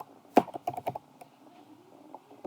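Keys tapped on a laptop computer keyboard while entering a college login ID, a short burst of quick, close clicks with a few pauses, quiet and alone.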